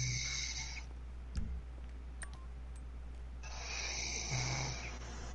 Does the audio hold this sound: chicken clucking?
no